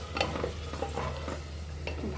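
Chicken sautéing in a spice masala with only a little water, a steady close sizzle broken by several short scraping stirs of a spoon against the pan.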